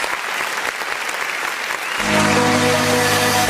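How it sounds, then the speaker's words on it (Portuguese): A church congregation applauds at the close of a worship service, steady clapping throughout, with a sustained musical tone entering and growing louder partway through. "Aplauda o nome do Senhor Jesus."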